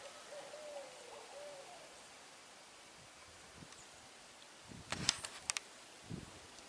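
An owl hoots faintly at a distance outdoors near clover food plots, a short low call early on, followed by some nearby rustling and soft clicks against a quiet background hiss.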